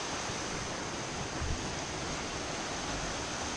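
Twenty Mile Creek on a trail in the Great Smoky Mountains rushes steadily nearby, a constant broadband wash of flowing water with no breaks or other sounds.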